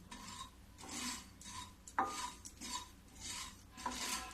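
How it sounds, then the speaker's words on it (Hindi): Poppy seeds roast in a pan over a low gas flame, giving soft, rhythmic scraping and rasping strokes roughly every half second, with one sharper clink of metal near the middle. "अब इसको भी धीमी गैस पर भूनूंगी।"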